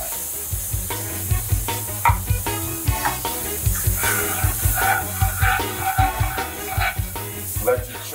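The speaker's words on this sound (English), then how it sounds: "at the right color, we start dropping the Trinity in. You got to keep stirring." Trinity vegetables sizzle loudly in a dark gumbo roux while being stirred steadily, giving a continuous frying hiss broken by rhythmic scraping strokes close at hand.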